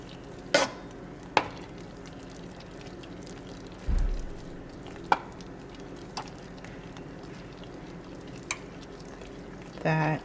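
A spoon stirs creamy cheese grits in a pot, with soft, faint bubbling and a few scattered sharp clicks and scrapes against the pot.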